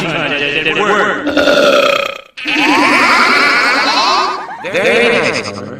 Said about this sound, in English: Well, I won the belching contest at work.